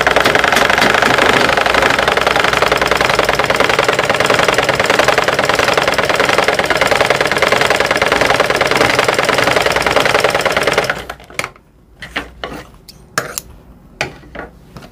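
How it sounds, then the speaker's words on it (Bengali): A freshly serviced sewing machine stitches in a fast, steady mechanical clatter for about eleven seconds, then stops, leaving a few scattered clicks and knocks. "এখন আমি সেলাই করে দেখি সেলাই হচ্ছে কি না"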